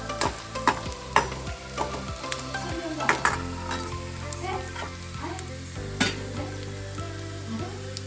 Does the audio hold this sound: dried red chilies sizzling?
yes